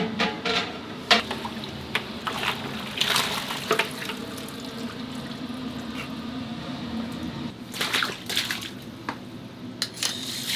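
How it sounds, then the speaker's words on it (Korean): Cold tap water runs steadily in a restaurant kitchen as freshly cooked meat for gukbap is rinsed to cool it, a continuous splashing flow with intermittent louder gushes and clatters, no voices. "그래서 지금 바로 찬물에 샤워를 해 식혀줘야 돼요."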